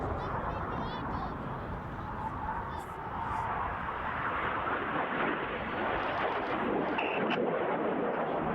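Red Arrows RAF jets pulling 6G through the circus manoeuvre at an air show, a broad roaring jet rumble that swells and holds, heard from a distance with commentary running over it.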